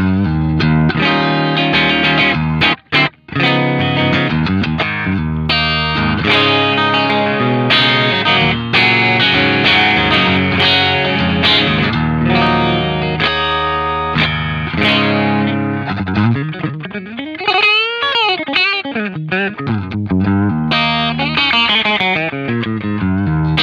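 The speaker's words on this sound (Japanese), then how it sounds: "まずはですね、クリーンチャンネルの音を弾いていきたいと思います。" Electric guitar through the clean channel of an amp playing chords and single-note runs with a bright, fairly clean tone, a slide-like swooping passage near the end, no talking.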